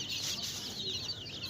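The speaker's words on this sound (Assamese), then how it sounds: "ইয়াত ডাঙৰ মুৰ্গী এটা আছে" A local hen with her chicks clucks close by on an Assamese backyard farm, soft continuous chicken calls and peeping over a quiet outdoor background.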